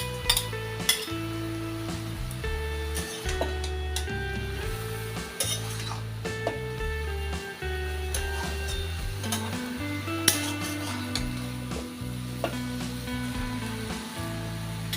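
Prawns fry with pumpkin stems in a pan, a steady sizzle under repeated clinks and scrapes of a spatula, with shifting tonal background music throughout.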